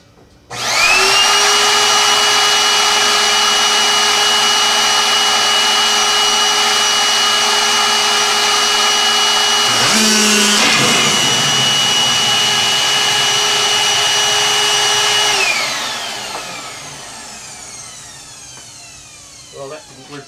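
An overspeeded PC power supply fan running, a loud, steady, close high-pitched whine and rushing roar that holds for about fifteen seconds, wavers briefly midway, then spins down and fades near the end.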